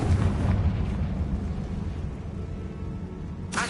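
A Confringo blasting spell explodes in the Hogwarts Legacy video game: a deep, rumbling blast that rolls and slowly fades over a few seconds, followed by a short, sharp burst at the very end.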